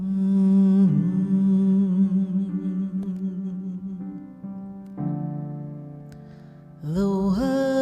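Sustained tonal music from a channeled song recording, with held notes and shifting pitches that swell and fade, playing alone without talk.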